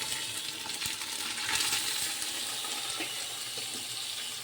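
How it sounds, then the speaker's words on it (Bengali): Drained pulao rice pours into a pan of browned ginger, giving a steady granular hiss and patter, with small clicks and rustles as the grains settle and scatter. "এই জল ঝরানো পোলাওয়ের চালগুলো দিয়ে দেবো।"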